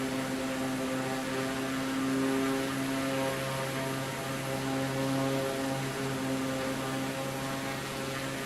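A propeller aircraft in Microsoft Flight Simulator 2024 drones with a steady engine hum and strong tonal harmonics, loud and continuous throughout with slight swells, no talking.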